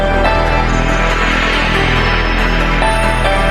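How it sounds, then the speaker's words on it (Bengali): Heavy torrential rain during a cyclone in Khulna pours as a loud, dense, unbroken hiss that stays constant from start to finish. "মুসল ধারে বৃষ্টি হচ্ছে"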